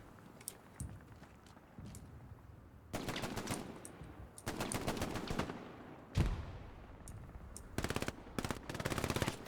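Gunfire in the World War II shooter Hell Let Loose on the Smolensk map: bursts of automatic rifle and machine-gun fire rattle in rapid volleys, some close and sharp, others fainter, separated by short quiet gaps.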